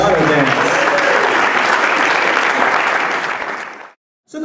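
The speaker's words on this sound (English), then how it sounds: "please put your hands together for the father-daughter" Wedding guests applaud the father-daughter dance with loud, steady clapping that fills the room, then cuts off abruptly near the end before a brief burst resumes.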